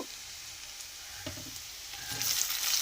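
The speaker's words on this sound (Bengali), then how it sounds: "ভাজা ভাজা করে নিচ্ছি আমি পেঁয়াজগুলো" Onions fry in a pan with a continuous close sizzle, lightly stirred with a few soft scraping knocks, the crackle growing brighter toward the end.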